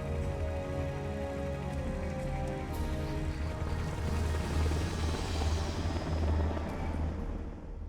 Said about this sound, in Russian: What's a Russian gunship doing here?